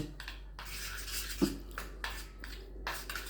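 A spoon stirs garlic butter ingredients with pepper and pizza seasoning in a bowl, making soft scraping strokes and light clinks against the bowl at close range.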